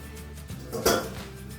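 A spoon is scraped clean against the rim of a bowl, one brief bright clink and scrape standing out from a quiet room hum.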